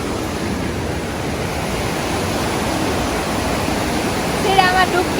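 Icy-cold water falls and flows along a mountain river in Germany, making a constant, dense rushing hiss that stays steady and close throughout.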